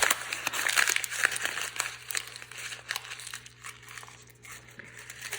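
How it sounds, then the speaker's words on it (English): A sheet of paper crumpled by hand for a watershed model, giving a steady crinkling and crackling, close and moderately loud, with sharp crackles spread through the clip. "Now I'm going to take this and I'm actually going to crumple it up."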